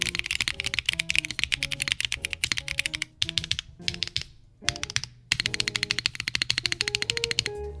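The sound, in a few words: typing sound test on QK65v2 keyboard with Invukeys Red Beans switches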